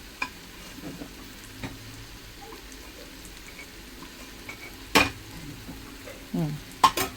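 Prawns sauté quietly in butter in a pan, a soft low sizzle broken by a few sharp scraping and clacking stirs, louder near the end.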